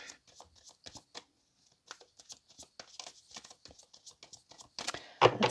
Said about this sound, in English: let's go back to the shuffle